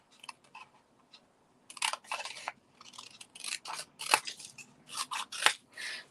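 Scissors snip through excess card in a scatter of short, close cuts, sparse at first and then coming in quicker bursts.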